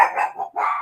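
A dog barks loudly and close by inside a home, giving two sharp, bright barks separated by a brief gap, with no talk over them.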